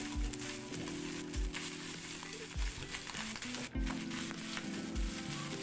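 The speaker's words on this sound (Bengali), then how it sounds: "একে একে আমি প্রতিটা মাছের টুকরা দিয়ে দিচ্ছি।" Marinated hilsa fish pieces frying in hot oil, a constant close sizzle broken by repeated soft knocks and scrapes as pieces are added and moved, with no voices.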